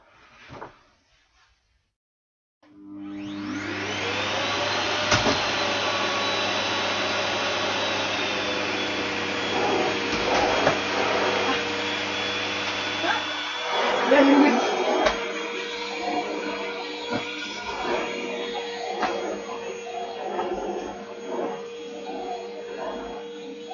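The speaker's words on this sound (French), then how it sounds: "je viens de repasser l'aspirateur là où j'ai déjà passé l'aspirateur" A Thomas Aqua+ vacuum cleaner switches on after a brief quiet start and runs loudly and steadily throughout, its motor whine shifting slightly in pitch as it is pushed over a floor, with occasional bumps and rattles.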